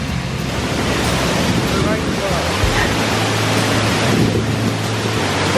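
Steady, dense rushing of the waterfall on the Mostnica river in Slovenia, loud and continuous throughout with a low hum underneath, with no voices on top.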